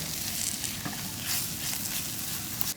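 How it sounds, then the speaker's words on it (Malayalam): Spice powders frying in coconut oil for a quail stir-fry give a steady, moderate sizzle with soft stirring scrapes, continuous throughout with a small clink near the end. "ഈ ഒരു എണ്ണയിലിട്ട് ഇങ്ങനെ മൂപ്പിക്കാം."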